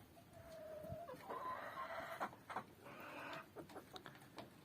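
A small flock of young roosters in a farmyard coop gives soft, repeated clucks and a few drawn-out calls, fairly quiet and unaccompanied by speech.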